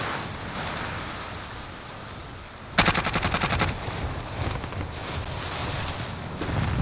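A loud burst of rapid automatic gunfire from a Call of Duty match on Rebirth Island cuts in abruptly over steady background noise and lasts about a second before fading into rumble.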